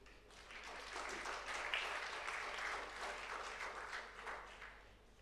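An audience applauds a speaker at a ministerial taskforce launch in Timor-Leste, steady, dense clapping that fills the room for several seconds at moderate loudness, with no voices over it.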